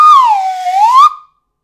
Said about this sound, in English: It sounds like going down a slide, and it's kind of like a whistle, so it's called a slide whistle.